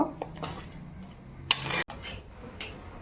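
Rice being stirred in milk in a cooking pot, a few close scraping and clinking strokes of a spoon against the metal over a soft steady background hiss.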